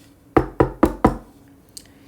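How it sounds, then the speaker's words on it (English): Four sharp knocks on a door, evenly spaced and close, with nothing else around them but a faint tick afterward. "a knock is heard from the door"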